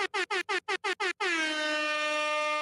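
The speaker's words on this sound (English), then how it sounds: "you shouldn't do air horns" An air horn blasts in seven short, evenly spaced honks, then holds one long sustained blare, loud and close with no talking.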